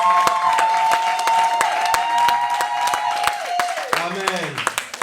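Church congregation applauding and cheering during a service, dense sustained clapping heard together with a voice speaking or singing, and a short burst of crowd noise near the end.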